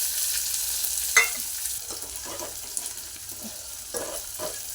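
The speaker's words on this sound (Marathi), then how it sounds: "हा कांदा आपला चांगला लाव आपण भाजणार आहोत" Onion frying in a pan with cumin and garlic for a mung dal amti, with a steady close hiss of sizzling oil and a few spoon scrapes breaking through the noise.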